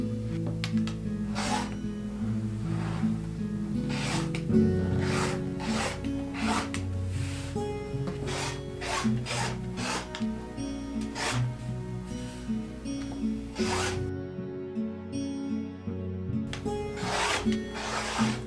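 Rhythmic scraping and rubbing of a cutter through fabric as quilt squares are cut, steady repeated strokes close by at a quiet level, with no talking.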